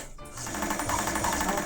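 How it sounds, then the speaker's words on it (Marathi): A freshly serviced sewing machine runs smoothly, its motor humming in a steady, even whir with a fast regular mechanical pulse, close and alone. "तुम्हाला मोटरचा आवाज येत असेल, पण मशीनचा बिलकुल आवाज येणार नाही आणि अगदी स्मूथ चालते मशीन"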